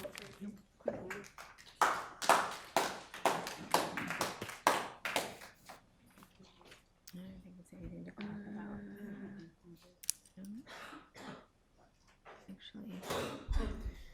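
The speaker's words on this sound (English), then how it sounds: "We shouldn't be applauding that." An audience at a school board meeting applauds in a burst of dense, close clapping that fades into scattered claps and quiet murmuring, followed by a brief voice and a final flurry of claps.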